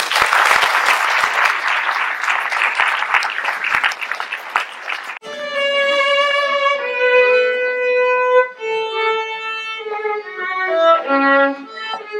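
Warm audience applause at the Josselinaise evening in Josselin welcomes performers, dense and steady clapping for about five seconds before it cuts off and music with clear sustained melodic notes takes over.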